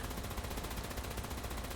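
A video game turret machine gun fires in a rapid, continuous stream of rattling shots, steady and faint in the mix, with no talking during the burst.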